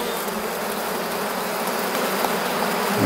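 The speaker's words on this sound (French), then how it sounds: "Il y a beaucoup d'abeilles, hein," Many black honeybees buzz around an open hive during a colony inspection, forming a dense, continuous hum close by with no voices.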